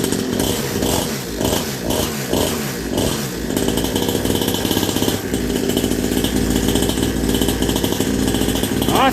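A cold Syx Moto dirt bike engine buzzes and revs right after its first pull, a raspy, close two-stroke-like drone with quick throttle blips that settles into steady high idle.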